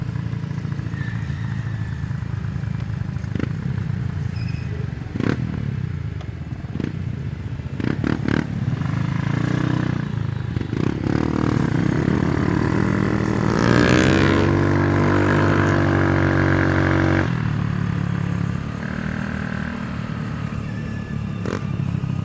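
A group of mini motorcycles cruising together, their small engines droning steadily nearby, with revving that rises and fades as they pass.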